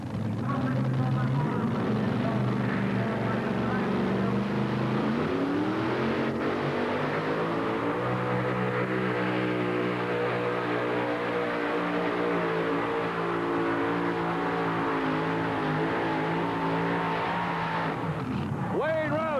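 A 541 cubic inch tractor-pulling engine roars steadily through a full pull at an NTPA event in Rock Springs, Wyoming, loud and sustained with shifting engine pitch while an announcer talks over it.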